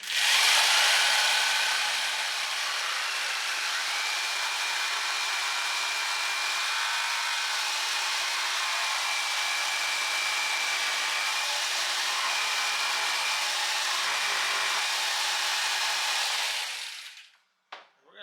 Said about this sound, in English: Alright, got the jigsaw here